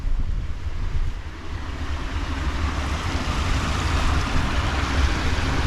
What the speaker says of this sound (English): So it draws excess water from the canal, and the water then bypasses the lock and replenishes the canal further on.